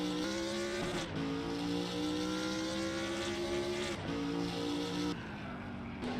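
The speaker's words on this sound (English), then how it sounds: "The pops and bangs on this car when I lift off the throttle," Race car engine in the Assetto Corsa video game crackling with pops and bangs on throttle lift, heard up close and loud across the whole stretch, with steady engine tones that dip and shift at each lift-off.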